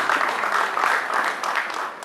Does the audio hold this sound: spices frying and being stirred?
no